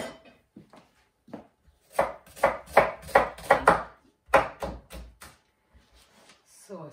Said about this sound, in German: Ich schneide mir eine halbe oder eine ganze Zwiebel, je nachdem wie groß die Zwiebel ist.